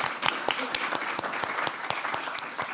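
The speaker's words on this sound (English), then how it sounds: "Let's give a round of applause to Melle before he secretly leaves the stage." Audience applause at an architecture and design event on solar democracy, a steady patter of many hands clapping throughout, moderately loud and continuous without speech.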